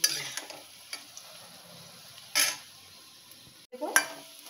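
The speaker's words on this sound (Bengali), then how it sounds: "দেখুন আলুগুলো লাল লাল ভাজা হয়ে গেছে।" Potato pieces fry in oil for chhanar dalna, giving a faint, soft sizzle under sharp clinks and scrapes of a spatula stirring in the pan, in a few short bursts.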